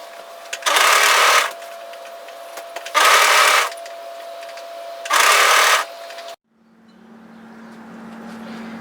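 A sewing machine stitches a raglan top over bulky, layered seams in three loud, even bursts of about a second each, with short pauses between them, followed by a quieter low hum once the stitching stops.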